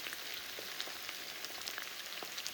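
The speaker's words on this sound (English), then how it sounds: "now I'm frying some eggs there as well" Eggs fry in a pan alongside sausages and leftover potatoes, a steady close crackling sizzle with fine irregular pops throughout, no voices.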